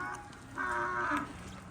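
Cattle moo while being moved early on a cold morning. A single drawn-out moo rises clearly over the quiet background at a moderate distance, with a softer lowing before it.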